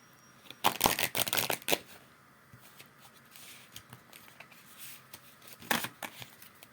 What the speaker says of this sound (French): je vais bien brasser les cartes